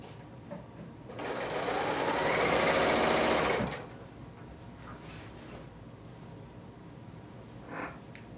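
A Bernina L890 serger runs in a fast continuous stitching burst for a couple of seconds, loud and close, then stops, leaving quiet handling noises and a brief click.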